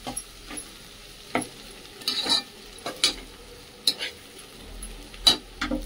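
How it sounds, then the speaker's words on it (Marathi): Safflower greens are sautéed in a pan, with a soft sizzle under repeated close scrapes and clinks of a spatula against the metal, coming in irregular bursts. "हे बघा भाजी परतून घेते"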